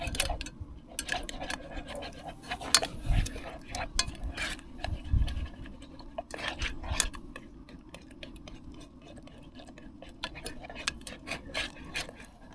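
Scrambled eggs stirred in a pot on a canister stove at gentle heat, a utensil scraping and clicking against the metal in an irregular rhythm under a steady low burner hiss.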